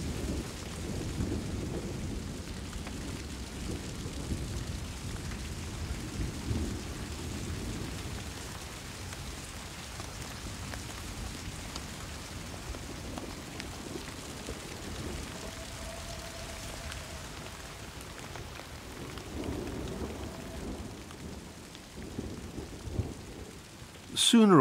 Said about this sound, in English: Sooner or later, the rain will stop.